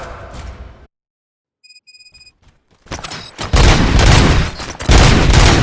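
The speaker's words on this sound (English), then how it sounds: "Gunshots? What's going on?" Brief electronic beeps in near silence, then heavy, rapid bursts of gunfire erupt and keep going loudly to the end, in the video game RoboCop: Rogue City.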